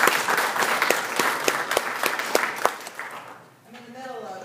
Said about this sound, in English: You all will just give her a round of applause.